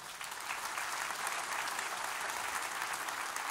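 A church congregation applauds for the Lord during a sermon, producing steady, dense clapping that holds even and sustained throughout, with no voices over it.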